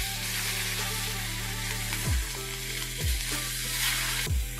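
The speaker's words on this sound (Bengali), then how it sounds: "এবার আমি ফুলকপিও দিয়ে ভেজে নেব।" Cauliflower frying in a pan gives a continuous sizzle, with a low background hum and three or four stirring knocks spaced about a second apart. Nobody speaks.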